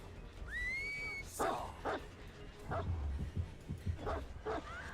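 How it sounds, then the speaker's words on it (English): A dog in the Dead by Daylight video game barks and yips in short bursts with whimpering tones, close and moderately loud over a rumbling game background. "it's my dog."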